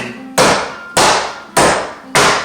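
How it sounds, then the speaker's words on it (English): A hammer strikes through a cover onto granite four times at a steady, even pace, each blow a loud, sharp, close crack with a brief decaying ring. "hammer the living lights out of it"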